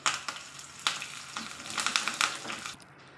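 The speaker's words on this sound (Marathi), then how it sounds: "तेलामध्ये मोहरी आणि जिऱ्याची फोडणी दिलेली आहे लसूण ठेचून टाकलेलं आहे त्यामध्ये मी आणि आता कढीपत्ता टाकते" Curry leaves hit hot oil already tempered with mustard seeds, cumin and crushed garlic, a loud crackling spatter that bursts and pops close by for a few seconds, then drops away abruptly, no speech.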